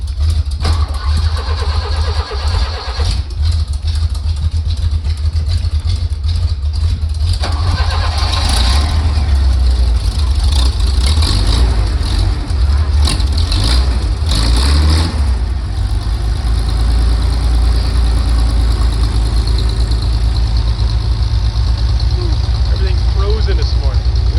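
A tractor engine runs loud and close on a freezing morning, rumbling at idle with rising revs partway through, while people talk over it.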